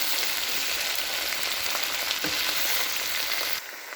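Okra sabzi with fenugreek and nigella sizzles steadily in a hot pan as it is gently mixed, giving a continuous close frying hiss that drops off sharply near the end.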